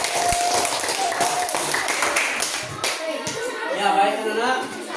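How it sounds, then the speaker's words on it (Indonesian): Elementary schoolchildren clap together in a classroom, a burst of quick, uneven hand claps close by, with a teacher's and kids' voices mixed in under the clapping. "tepuk tangan untuk semuanya dulu."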